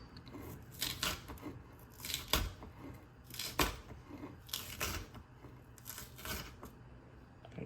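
Knife cutting a pineapple into strips, heard as a series of irregular, fairly faint crisp chops and slicing crunches, close and alone.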